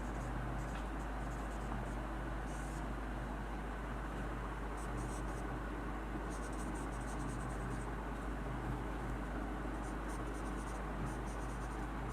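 Students writing in notebooks during a classroom lesson, a faint, steady scratching of pens on paper with intermittent light strokes over a constant low background hum.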